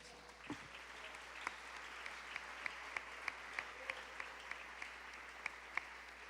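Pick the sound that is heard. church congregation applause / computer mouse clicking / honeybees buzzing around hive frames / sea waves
church congregation applause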